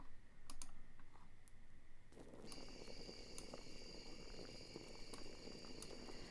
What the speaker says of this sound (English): Now here's some crickets chirping with a clip I got from freesound.org, and there's some churning bubbles for the cauldron.